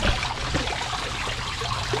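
Steady running water flowing into betta fish tanks, a constant loud trickling rush that fills the whole moment without pauses or talk.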